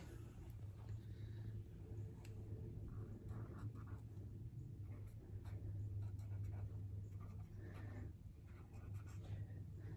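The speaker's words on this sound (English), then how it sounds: "why don't you go ahead and write Mama on this Post-it note" A pen writes on a Post-it note while space is prepared for home worship. Faint, soft scratching strokes come intermittently over a steady low hum.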